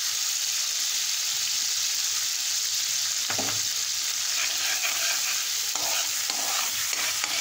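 Water with turmeric and salt for lemon vermicelli boils in a pan, a continuous close bubbling hiss that stays even throughout, with a few faint knocks partway through.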